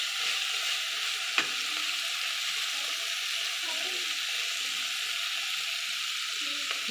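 Drumstick curry with turmeric frying in a pan, a soft continuous sizzle with a few sharp spoon clicks as it is stirred, fairly quiet and steady throughout.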